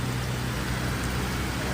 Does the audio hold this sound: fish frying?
no